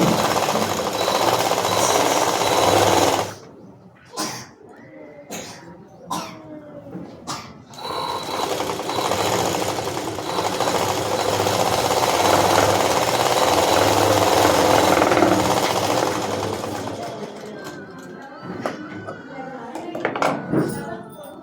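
A sewing machine stitches the front of a blouse onto its lining, its steady mechanical whir running loud and close, broken by a few short stops and restarts before carrying on.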